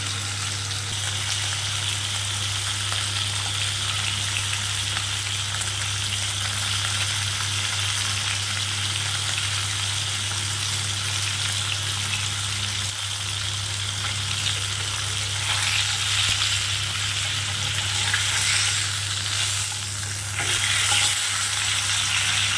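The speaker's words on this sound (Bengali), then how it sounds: "এইভাবে লাল লাল করে আমি বাকি মাছগুলোকেও ভেজে নিচ্ছি।" Pieces of pomfret fish frying in hot oil in a home kitchen give a steady, dense sizzle that runs on unbroken, with faint stirring and turning noises, loud and close.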